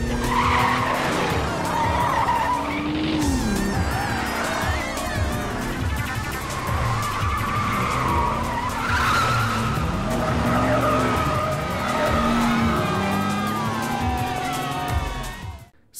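Racing cars, one of them blue, launch at the start of a film race. Engines rev and whine up and down over loud, repeated tire squeals and skids, sustained and close, ending abruptly.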